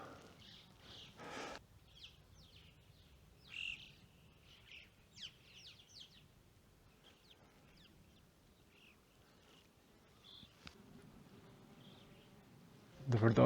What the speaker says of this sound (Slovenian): Koliko je ptičev?